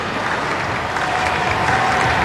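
A large stadium crowd claps steadily at an evening athletics session of the SEA Games, backing a long jumper before his attempt, the sound a broad, even wash of applause heard from a distance.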